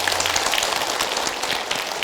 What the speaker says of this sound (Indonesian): Baik, Masya Allah. Tepuk tangan.